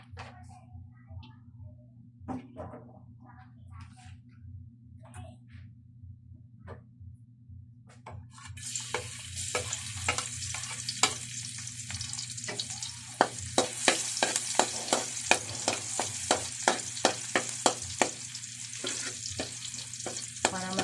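Garlic and onion sautéing in a pan, starting with faint scattered stirs over a steady low hum, then breaking into a loud, dense sizzle from about nine seconds, with repeated scraping stirs and no talk.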